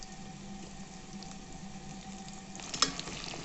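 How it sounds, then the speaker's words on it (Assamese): Salted potatoes fry quietly in a pan, giving a faint steady sizzle with a brief clink of utensils near the end and no talk. "প্ৰথমে মই আলুখিনি অকণমান ফ্ৰাই কৰি ল'ম।"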